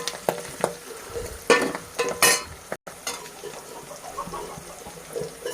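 Onion, green chili, curry leaves and dry red chili tempering in hot oil for a dal pulusu, with crackling pops and stirring scrapes in quick irregular bursts, close and moderately loud, no talking.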